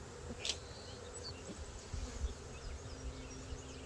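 A honeybee swarm buzzes in a dense, continuous drone outdoors at moderate distance, with individual bees passing near the microphone and a few soft knocks, and no talking.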